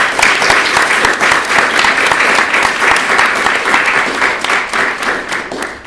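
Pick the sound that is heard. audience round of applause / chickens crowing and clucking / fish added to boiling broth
audience round of applause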